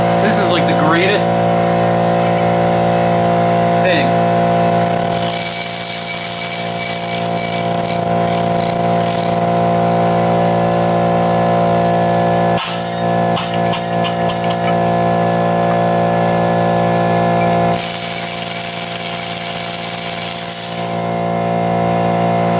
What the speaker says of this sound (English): I'm gonna tack weld this.